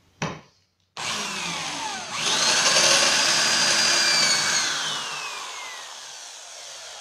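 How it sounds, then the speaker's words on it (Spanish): Power drill boring a small pilot hole in soft aluminum with a metal bit, a short burst and then a sustained rising whine that fades out, close and without talk. "hacer una pequeña perforación antes de perforar con tu broca para metales"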